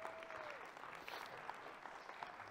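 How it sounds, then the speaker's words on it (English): Audience applause at a live game-show style event, a steady crowd of clapping hands heard fairly faintly throughout. "Give her a round of applause, everybody"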